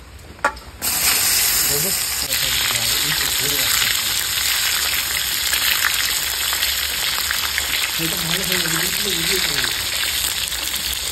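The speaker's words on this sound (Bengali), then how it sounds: "পটলগুলো ভাজা হয়ে গেছে, নামিয়ে দিচ্ছি।" Pointed gourd (potol) frying in hot oil in a pan, a loud steady sizzle and hiss that starts suddenly and continues throughout, with a person talking briefly in the middle and again near the end.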